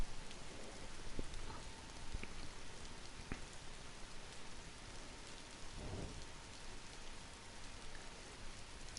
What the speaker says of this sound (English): You can listen to the rain.